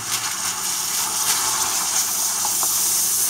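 Water is poured into pakora batter of chickpea flour, salt and chili, a steady gushing splash close by that runs continuously with slight surges, no voices.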